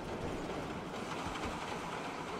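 A train ride at an amusement park in the video game GTA rumbles along steadily, with a continuous rolling clatter of wheels on track that stays at an even, moderate level throughout with no voices.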